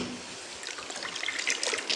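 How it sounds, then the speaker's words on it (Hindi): A spin mop is rinsed in a bucket of clean water with phenyl added, giving a steady close splashing and sloshing that grows slightly busier toward the end, with no talking. "तो उसी तरह मैं इसको पानी में ऐसे साफ़ कर लूँगी फ़िनाइल वाले में।"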